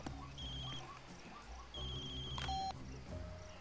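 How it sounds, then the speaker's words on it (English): A telephone in the video game Far Cry 2 rings in short electronic tones over low background game sound, fairly quiet and heard alone without talk. "Oh, there's a phone."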